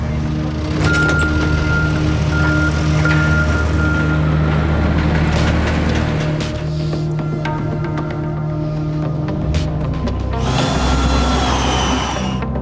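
Big rig truck being moved across town, a loud steady engine drone with clanks and rattles and a burst of hiss near the end, no talking.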